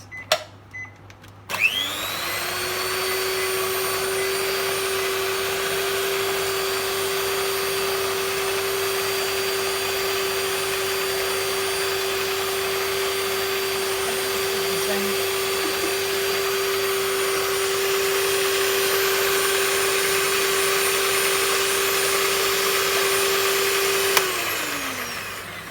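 An electric mixer beats pineapple upside-down cake batter, starting with a few clicks before the motor spins up into a steady, loud, whining drone that holds for over twenty seconds and then switches off.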